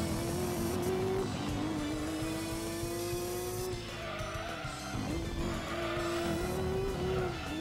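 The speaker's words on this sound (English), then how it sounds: "Ooh, nice drift I didn't want" Car tires squeal through a drift in the Gran Turismo 2 racing game, a loud continuous screech riding over a steady engine drone for several seconds with brief shifts in pitch and no talking.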